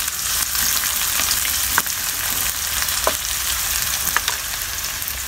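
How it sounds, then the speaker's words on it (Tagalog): Garlic and onions sautéing in a pan for a seafood dish, a bright continuous sizzle with occasional soft scrapes and ticks of stirring, close and steady throughout without voices. "Pula-pulahin natin kunti yung ating bawang tsaka sibuyas"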